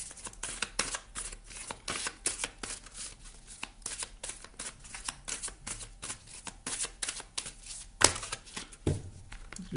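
Tarot cards are shuffled and handled continuously at close range, a dense run of crisp riffling flicks and soft slaps with one sharper snap near the end and no voice over it.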